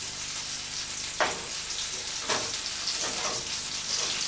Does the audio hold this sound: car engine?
no